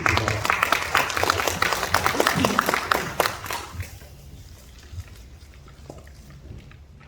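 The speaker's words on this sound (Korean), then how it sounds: "우리 이만초 시인님께 박수로 환영해 주십니다" Applause from an audience at a book launch event welcoming a poet, brisk and dense for about three seconds before fading into scattered claps and quiet room noise.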